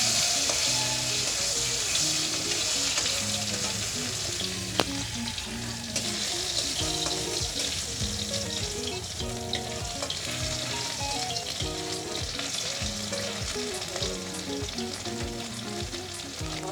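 Dried fish (shutki) frying in hot oil in a pan, a dense, steady sizzle and crackle running loud and close throughout, with occasional clinks of stirring.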